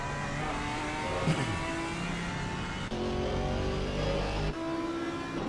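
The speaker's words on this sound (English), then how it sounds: "Grush is trying to shake off the Porsche's slipstream." GT4 race cars battle at Brands Hatch circuit, with a Porsche among them, their engines droning and revving continuously, one car passing close with a rising then falling roar.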